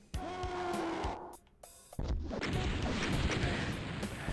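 Rocket explosions in the video game Doom: The Plutonia Experiment, with heavy booming blasts and crashing impacts that come one after another and fill most of the clip.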